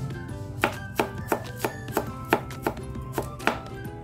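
Garlic being chopped into small pieces with a knife on a board during home cooking: about ten crisp, fairly regular strikes, close and clear over a low steady background hum.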